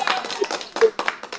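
A short burst of brisk hand clapping as a birthday round of applause on a talk show, close and fairly loud, mixed with a speaking voice.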